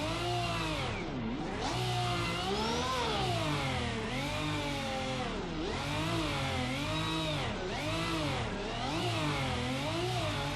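A race car engine in a sim racing game revs continuously, its loud, steady tone repeatedly swelling and dipping in pitch as the throttle rises and falls, with no talking.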